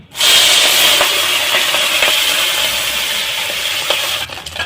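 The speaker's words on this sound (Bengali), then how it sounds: "তেলটা গরম হয়ে গেছে, এখন আমি পুঁটি মাছটা ভেজে নেব।" Small puti fish frying in hot oil for a spinach curry, a loud steady sizzle with fine crackling spits throughout, close and continuous with no voices over it.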